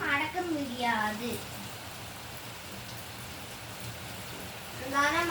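Heavy rain pours steadily over houses, a dense continuous hiss with faint voices or whistling tones at the start and end.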